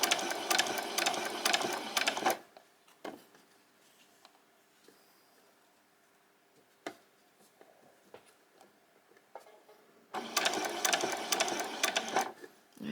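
A sewing machine stitches handbag fabric in two loud bursts of rapid whirring, one at the start and one at the end. Quiet fabric handling and small clicks fill the pause between them.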